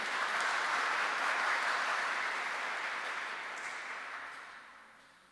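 An audience claps steadily at a Sunday church celebration, a dense, sustained wash of applause that slowly fades out with no talking over it.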